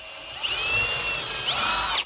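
Power drill boring into a wooden door jamb, a loud continuous whirring whine with the pitch sagging and recovering under load, close up and alone for about two seconds.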